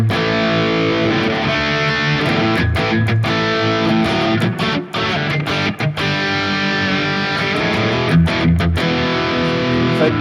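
A distorted electric guitar through a tube screamer into a JCM800-style amp model on a Sonicake Matribox 2 plays a crunchy, driven riff with short pauses between phrases, steady and fairly loud throughout.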